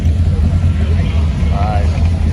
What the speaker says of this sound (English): Look at these guys just rolling in, man. Deuce after deuce after deuce. Listen to that sucker.